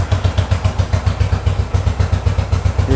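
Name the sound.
1970 Yamaha XS650 motorcycle engine idling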